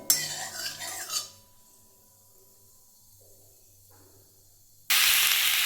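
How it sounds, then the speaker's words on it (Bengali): Whole spices tempering in hot oil for a big chili pickle sizzle in a loud burst with clinking, then fall almost silent before a strong hiss returns abruptly at the end. "আমি এই ফোড়নটা ভালো করে একটু ভেজে নিচ্ছি যতক্ষণ না একটা গন্ধ ওঠে"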